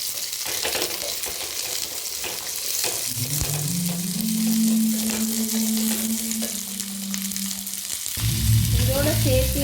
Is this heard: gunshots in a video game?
no